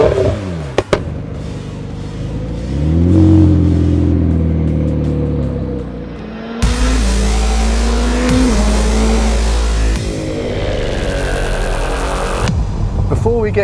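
A 2017 McLaren 720S sports car accelerates hard, its engine rising and revving through several gear changes, loud and close, with brief pauses between pulls.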